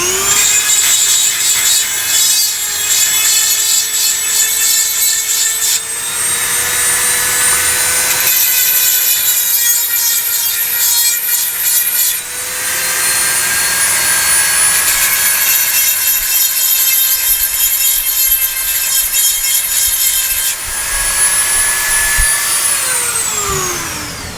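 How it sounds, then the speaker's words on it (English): Dremel rotary tool grinding threads on the inside of a pottery batt fitting, a loud sustained high-pitched whine with small pitch shifts and brief dips as the bit bites, ending with the motor spinning down. "taking a Dremel tool and grinding off those threads a little bit on the inside"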